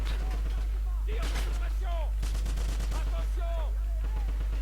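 Rapid bursts of gunshots from the shooter game Wolfenstein crack out in quick succession, loud and close, amid game sounds and a faint voice.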